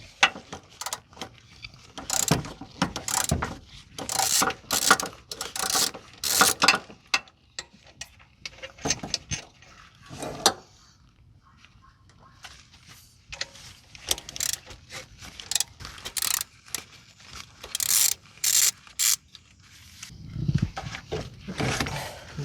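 Ratchet clicking in quick bursts while loosening an alternator bolt underneath a Toyota Yaris engine bay, close and crisp, with pauses and small metallic knocks between strokes.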